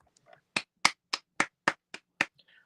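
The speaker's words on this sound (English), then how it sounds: "Applause." Seven sharp hand claps in a steady, brisk rhythm, close and clear against near silence, with faint voice sounds just before and after.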